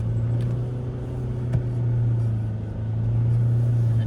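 A BYD Shark 6 pickup towing a TVAN camper climbs a soft sand dune in the Simpson Desert, its drivetrain giving a steady low hum and rumble from inside the cabin, fairly quiet and even with a slight swell, and no one talks.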